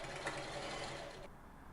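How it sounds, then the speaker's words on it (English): A sewing machine stitches a second seam with a folded edge along the presser foot on a refashioned men's shirt, whirring rapidly and steadily up close, then stopping abruptly near the end. "Sew a second seam with the folded edge aligned with the side of the presser foot."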